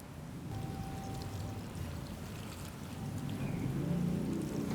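Rice-washing water is poured from a container onto plants in a raised garden bed, making a steady, close splashing trickle that grows slightly louder toward the end.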